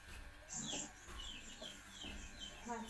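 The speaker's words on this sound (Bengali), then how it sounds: "মুরগিগুলোর সাউন্ডগুলো অফ করেন না বাইরে" Chickens cluck outdoors, a loose run of short, uneven calls at moderate distance over a low background rumble, with a hint of voices nearby.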